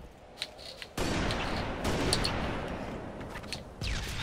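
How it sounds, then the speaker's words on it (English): Rapid bursts of gunfire and explosions in a Halo 4 match, a sudden loud barrage of automatic fire with sharp shots and booms that keeps rolling with occasional louder cracks. "Yeah, I hear gunfire."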